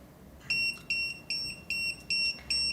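A Retekess TD158 wireless guest pager beeps six times in a steady on-off rhythm, each shrill electronic tone lasting about half a second, close by and with no other sound around it.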